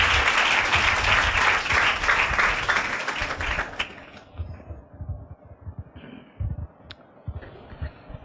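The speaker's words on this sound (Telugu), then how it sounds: "అందరు కూడా ఘనంగా చప్పట్లు కొట్టి ప్రేమతో ఆహ్వానిద్దాం." A church congregation at an IPC fasting meeting bursts into loud, dense applause to welcome the pastor, the clapping fading after a few seconds into scattered claps and low murmuring.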